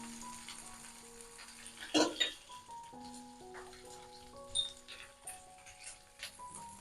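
Cut potatoes fry in oil with curry leaves and urad dal, giving a faint, steady sizzle with a few soft stirring clicks beneath quiet tonal sounds.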